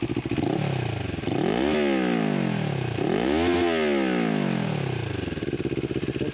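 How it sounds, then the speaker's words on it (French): A CFMOTO 650NK motorcycle exhaust revs alone and loud, with two strong throttle blips that climb and fall back to a steady idle. "fais-nous écouter un petit peu l'échappement"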